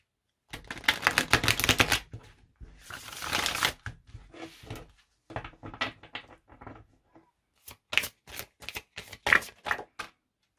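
Bursts of tarot cards being shuffled, quick riffling flutters in several separate rounds with short pauses between them, close and crisp.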